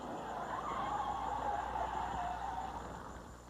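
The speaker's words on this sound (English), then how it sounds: "Hear the tire squeal" Sprint car tire squeal at Winchester during Saturday night racing, a sustained mid-pitched screech lasting about three seconds over a continuous engine roar, moderately distant.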